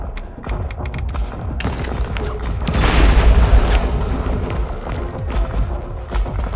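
A pipe bomb goes off in the shooter game Industria 2, a deep rumbling boom swelling near the middle over a steady backdrop of game noise and scattered thuds.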